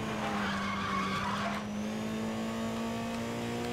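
A car hard drifting in Need For Speed Most Wanted (2012), with a loud sustained tire skid over a steady, slowly rising engine drone, close and continuous with no talking.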